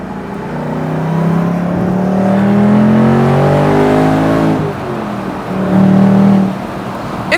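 A 2025 Mustang GT convertible's active exhaust, set to quiet mode, drones under load as the car accelerates through rising revs, eases off, then pulls again, a full, fairly loud rumble with no talking.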